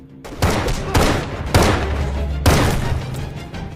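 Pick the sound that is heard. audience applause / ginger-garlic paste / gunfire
gunfire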